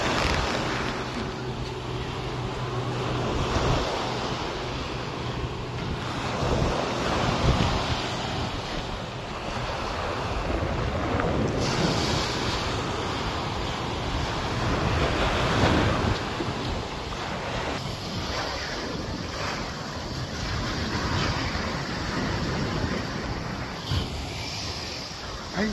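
Ocean waves wash up on Puka Beach, a white-sand shore strewn with coral bits on Boracay Island, Philippines, as a steady surf roar mixed with gusting wind buffeting the microphone, with faint surges throughout.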